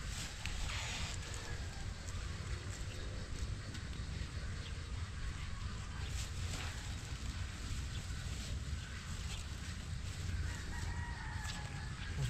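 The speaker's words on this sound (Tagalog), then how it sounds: "Nasa labas po ba yung manok?" Chickens clucking and a rooster crowing outdoors near a vegetable garden of cucumbers, eggplant and string beans, several calls scattered over steady background noise.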